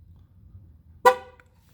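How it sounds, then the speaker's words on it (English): A single short horn beep sounds from a late-model GMC during a tire pressure sensor relearn, close and clear after a quiet stretch. "You hear the horn beep."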